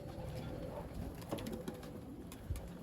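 Young racing pigeons coo softly in a loft, a steady low murmur of overlapping calls with a few sharper flutters and knocks, heard up close at a quiet level.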